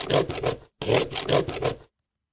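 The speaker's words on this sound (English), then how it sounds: "It's the sound of cutting a pumpkin." A knife saws through a pumpkin in rough rasping strokes, two bursts of scraping cuts separated by a brief pause, close and dry, then silence.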